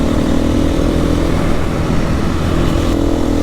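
A 2021 KTM EXC-F 500 dirt bike fitted with new springs on a quick test ride, its engine a loud continuous drone close to the microphone with steady throttle and no talking.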